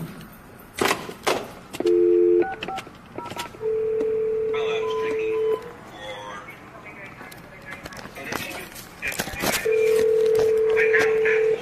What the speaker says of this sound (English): If you have any questions, please dial 6500. Use the telephone.